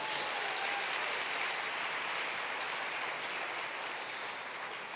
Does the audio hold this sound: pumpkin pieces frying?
no